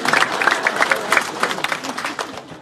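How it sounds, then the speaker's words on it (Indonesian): A crowd of villagers claps at an outdoor land certificate handover ceremony, a burst of scattered applause with voices mixed in, fairly close and fading after a couple of seconds. "Tepuk tangan dulu."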